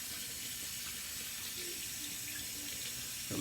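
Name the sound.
cold water running from tap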